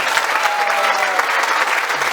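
An audience at a Bhagwat Katha gathering in Mauritius applauds in a dense, steady wash of clapping, close and loud throughout.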